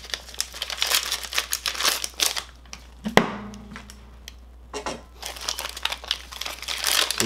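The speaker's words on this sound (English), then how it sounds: "So we are going to rip this pack, the second one" Panini NBA Illusions retail trading card pack ripped open by hand, with dense crinkly foil crackling and tearing for several seconds, a sharp snap near the middle, then more close, busy crinkling.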